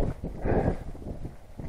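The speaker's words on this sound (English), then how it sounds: "So it's still quite windy." Steady wind buffeting outdoors on the edge of the Kinder Plateau, a broad low rumble that swells in the middle and keeps blowing throughout, close and fairly loud.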